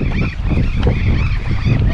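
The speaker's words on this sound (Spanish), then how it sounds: "Loro barranquero. ¡Qué quilombero que son!" Burrowing parrots squawk in a loud, dense chorus by a river in Patagonian Argentina, a continuous wash of harsh overlapping calls mixed with wind buffeting the microphone.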